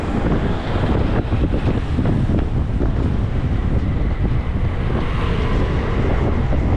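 Strong wind gusting along a street in Macau near construction, a loud, continuous roaring rush with heavy buffeting on the microphone throughout and nothing else clearly heard.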